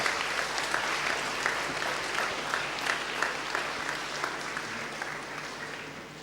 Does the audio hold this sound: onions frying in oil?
no